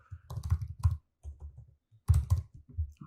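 Computer keyboard typing in short bursts of quick clicking keystrokes, close and clear, with brief pauses between groups of keys.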